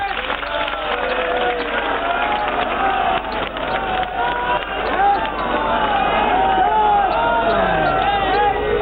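A large crowd at an outdoor stage event in Ayodhya claps and cheers loudly and without a break, many voices rising together over the ongoing applause.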